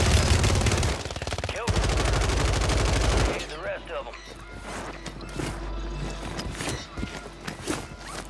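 Rapid automatic gunfire in the video game Warzone 3, dense continuous bursts for about three seconds, then scattered single shots, footsteps and game effects, with a voice speaking over the action.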